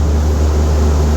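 Steady, loud drone of a Whitehaven Harbour Classic 40 cruiser's engine running at speed, around 3,000 revs and 19 knots, a continuous low hum with no voices.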